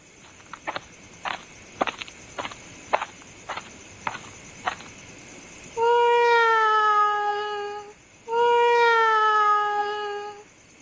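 A pet cat meows from up on a rooftop. A run of sharp footsteps or taps comes first, then two long, drawn-out, tonal meows follow, loud and clear.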